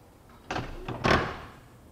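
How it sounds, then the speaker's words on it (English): Sliding door latch on a 2013 Volkswagen Routan with a faulty latching mechanism, giving two short clunking, chattering bursts about half a second apart, close and fairly loud, with no talking. "Right here we have some kind of the ratcheting noise."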